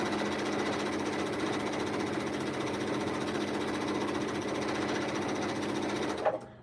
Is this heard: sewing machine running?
yes